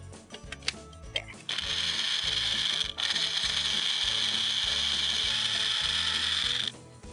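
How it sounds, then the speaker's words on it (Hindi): A blender whirs through a grape and pineapple smoothie with milk, starting after a few clicks and knocks, then running loud and steady at close range for about five seconds, briefly dipping once before stopping. "ताकि ये अच्छी तरह से ब्लेंड हो जाए।"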